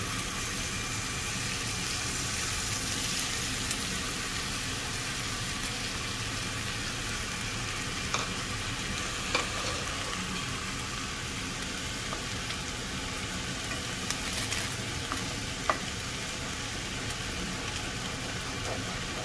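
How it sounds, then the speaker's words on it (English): Chicken egg fried rice frying over a high flame while being stirred constantly, a steady close sizzle with scattered small clicks and scrapes of the utensil against the pan, no voices. "I have to continuously go on stirring this, else it's gonna get stuck."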